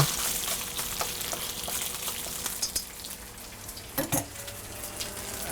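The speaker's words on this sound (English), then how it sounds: "Now it's sizzling." Quiet, steady sizzle of beef frying in a pan for beef and broccoli stir fry, with a few scattered clicks and scrapes of metal utensils over the crackle.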